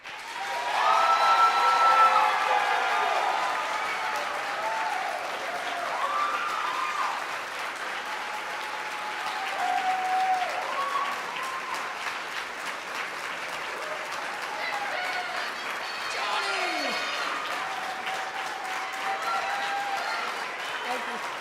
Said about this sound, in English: if all of you will join me in a round of applause for Ms. Kim.